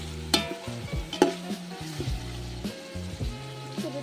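Tomatoes added to a pan for a rustic outdoor biryani, sizzling and frying while a spoon stirs with clanks and scrapes, close and moderately loud with no talk.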